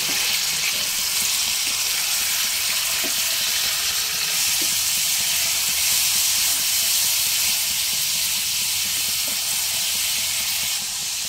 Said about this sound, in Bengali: মিডিয়াম ফ্লেমে প্রায় 3 থেকে 4 মিনিট পেঁয়াজের সঙ্গে খাসির মাংসটাকে একটু ভেজে নিতে হবে